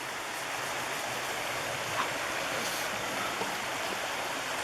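A small river flows with a steady, soft broadband wash at a campground, faint and even with no distinct splashes and no talk.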